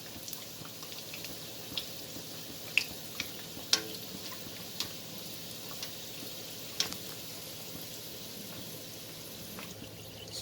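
Potato-stuffed Himachali bread (beduwa) frying in a pan, a steady soft sizzle with scattered pops and crackles running throughout, no voices.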